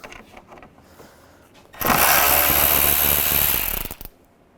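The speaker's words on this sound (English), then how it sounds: "Then take these 2 screws out. Use a T30 socket." A T30 socket ratchet removing screws on a 2005-10 Volkswagen Jetta during radiator work, a loud buzzing run of about two seconds that cuts off sharply, with quiet clicks before and after.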